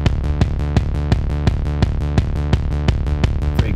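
Final Fantasy XIV Shadowbringers dungeon theme, a dancey electronic track with punchy kick drums on a steady fast beat under sustained synth chords, loud and alone.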